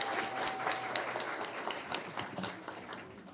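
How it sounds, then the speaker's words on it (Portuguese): A church congregation claps at a baby presentation during a service, dense continuous applause at moderate distance with faint voices mixed in. "Vamos dar uma salva de palmas, gente,"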